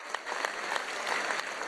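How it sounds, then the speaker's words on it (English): Applause at a recorded event, a brief burst of many hands clapping at moderate volume, dense and steady, captured from within the audience. "I took this video of this applause"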